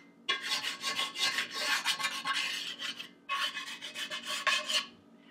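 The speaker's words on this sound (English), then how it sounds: "This is what you'll use to scrape something off the bottom of your pan or the side of your pan." A pan scraper rasps across a cast iron pan in two close bursts of quick back-and-forth strokes, separated by a brief pause, with no talk.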